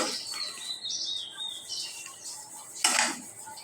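A lid settling onto a cooking pot of chicken and rice for morog polao, a single bright metallic clatter near the end after soft kitchen rustling and faint chirps, close by, no talk.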